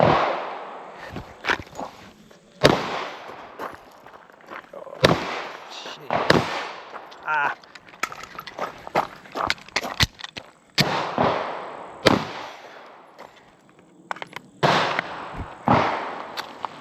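Gunshots ring out at a shooting range with steel and cardboard targets, firing in irregular bursts of sharp, loud cracks with short gaps, some quick doubles and ringing impacts between them.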